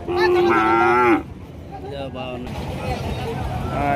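A cow gives one loud, close, drawn-out moo at the Rajshahi city cattle market, then quieter market noise and people talking carry on behind.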